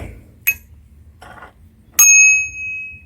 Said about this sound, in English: I added this bell.